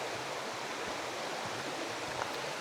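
Mountain stream flowing beside a hiking path near a small footbridge, a steady, even rush of water with no breaks, moderately loud and close, with no voices.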